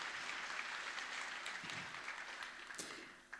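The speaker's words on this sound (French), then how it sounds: "Il mérite d'être applaudi." A fairly quiet round of audience clapping fades out over a few seconds, with scattered individual claps standing out near the end.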